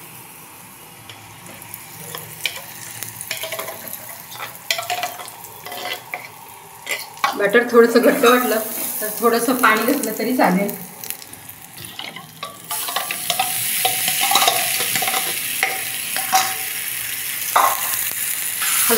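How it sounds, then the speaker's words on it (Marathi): Besan batter being stirred in a frying pan over a chili-garlic tempering, a soft scraping and sizzling that swells in the middle and continues steadily, with someone speaking briefly over it. "हलवून त्याचे घट्ट बनेपर्यंत आपण त्याला छान परतून घ्यायचे"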